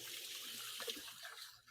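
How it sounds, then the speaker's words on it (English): Tap water runs steadily into a kitchen sink while hands are washed during brunch cooking, a faint, even hiss with light splashing and no talking. "Wash my hands."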